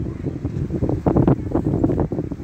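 Strong wind buffets the microphone in rough, rumbling gusts that rise and fall, loud and close.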